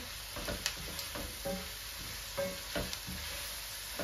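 Chicken mince frying in a pan, a low steady sizzle broken by several soft scraping stirs and light clinks of a spatula, close and fairly quiet with no talk.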